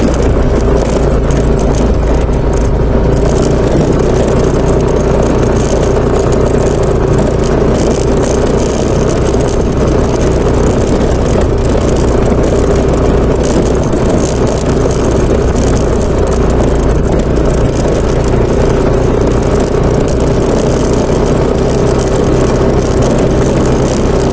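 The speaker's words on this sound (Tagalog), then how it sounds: "Medyo makalansig na yung motor natin." A worn, rattling outboard boat motor running steadily during shore-casting fishing trip in Real Quezon, a loud, close, continuous drone that never lets up, with no talking over it.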